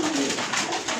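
Soft cooing from a golden pigeon, a low murmuring call close by, heard alone.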